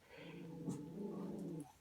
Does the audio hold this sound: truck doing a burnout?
no